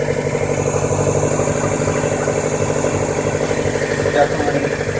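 1994 Mazda MX-3 engine running with a fault, probably near the carburetor, producing a loud, steady drone with a fluttering rhythmic pulse heard close up.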